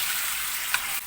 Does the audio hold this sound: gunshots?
no